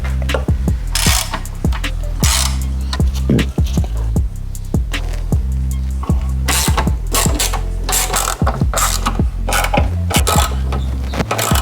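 A ratchet with a 10 mm socket turns the rocker cover bolts on a Ford Falcon Barra engine, giving loud, steady, rapid clicking up close that runs almost without a break, with brief metallic clinks between strokes.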